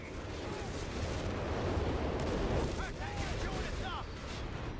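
Stuka rocket artillery fires in Company of Heroes 3, a dense continuous roar of rocket launches and distant booms that lasts throughout, with faint whistling streaks and battle noise.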